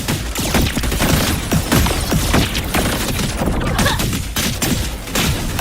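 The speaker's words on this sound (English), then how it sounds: "More grenades!" Grenade explosions tear through combat in the video game Wuthering Waves, loud dense bursts and booms piling up in a continuous barrage with rapid gunfire-like cracks.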